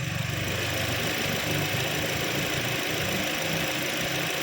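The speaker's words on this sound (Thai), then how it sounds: "สตาร์ทเครื่องเปิดแอร์เรียบร้อยนะครับเดี๋ยวเรามาฟังเสียงเครื่องกันดู" A 2013 Toyota Altis 1.8E petrol engine idles close by with the air conditioning on, a low continuous hum with a faint even vibration and no voices, unchanging throughout.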